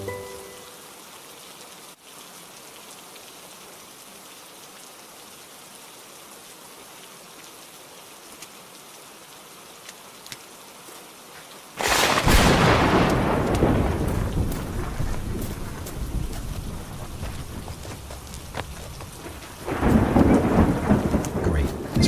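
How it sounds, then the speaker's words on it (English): Video game weather: steady rain hisses quietly, then loud thunder cracks and rolls close by, with a second heavy rumble near the end over the downpour. "This rain's relentless."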